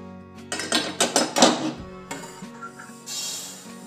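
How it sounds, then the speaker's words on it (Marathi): Roasted sesame seeds are scraped out of a pan onto a plate, a series of quick metallic knocks and rattling scrapes followed by quieter clinks, close and fairly loud. "आपण आता ही तीळ ताटात काढून घेऊ।"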